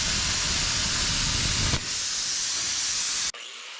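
A plasma cutter slices through 16 gauge sheet metal with a loud, steady, close hiss, a brief break midway, then stops abruptly near the end.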